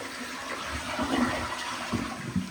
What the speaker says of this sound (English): go ahead and flush the toilet and check for leaks